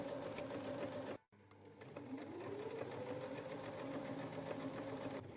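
A sewing machine stitches patchwork fabric squares together in a steady, rapid mechanical run. It breaks off for a moment and then resumes at a constant rate, close up with no voices.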